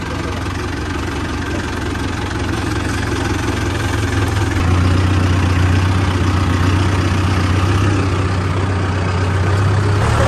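A tractor engine idles steadily, a continuous low, throbbing rumble close by that settles into a slightly deeper, smoother hum partway through, with no voices over it.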